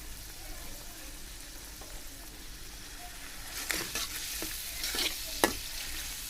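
Onions fry in a pan until light brown for a tilapia curry, a soft, quiet sizzle with several sharp scraping stirs of a spatula toward the end.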